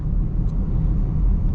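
A Chevy Equinox EV accelerates at full throttle with a steady, low road-and-motor rumble that stays constant and loud throughout, with no voices.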